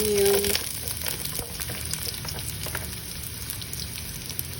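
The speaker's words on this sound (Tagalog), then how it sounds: "Saute the garlic. And then the onion," Garlic and onion sauté in a pan with a steady, soft sizzle that runs through the whole stretch, while faint stirring clicks and scrapes sit on top of it at close range. No one is talking.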